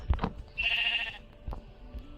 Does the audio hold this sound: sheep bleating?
yes